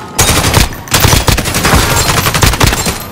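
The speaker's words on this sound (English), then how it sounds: "I'm taking fire!" Rapid automatic gunfire erupts in a Call of Duty: Modern Warfare match, loud dense bursts of shots packed close together with short breaks between them.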